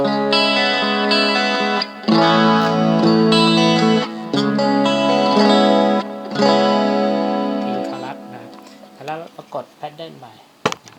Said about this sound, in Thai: อันนี้คือเสียงคอรัสก่อนนะครั